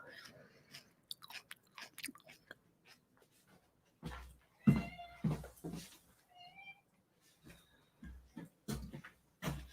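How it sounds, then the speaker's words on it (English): A pet cat meows a few times around the middle, short rising cries in a kitchen during a raw vegan cooking session, amid clattering, chewing-like sounds and quiet talk. "This cat, she's so cute"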